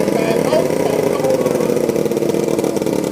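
A single-cylinder 500cc open-class racing motorcycle engine drones loudly and steadily nearby, with a slight rhythmic pulse, while a voice talks over it.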